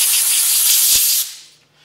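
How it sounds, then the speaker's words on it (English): Compressed air blasts a cleaned two-stroke carburetor, a loud steady close hiss lasting over a second before cutting off and trailing away. "And again, with the compressed air, just blow that off."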